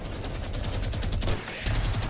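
Rapid gunfire in the Fortnite video game, a steady string of quick automatic shots rattling close together over about two seconds, moderately loud.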